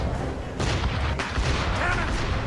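Ship cannons firing during a naval battle in Assassin's Creed Rogue, a few heavy booming blasts amid rumbling sea and battle noise, with shouted commands over them.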